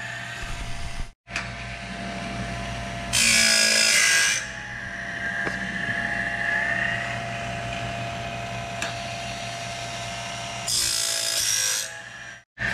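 Woodland Mills bandsaw blade sharpener running as the blade rotates past, a steady motor whine with a continuous grinding hum, broken by two bursts of harsh, bright grinding and brief cutouts, close and loud, no talking.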